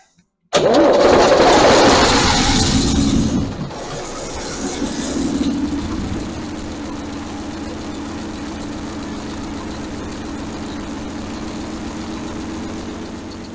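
An old Toyota EP72 engine, not run for at least two decades, cranks and fires loudly, revs briefly, then drops to a steady, rough idle that continues up close.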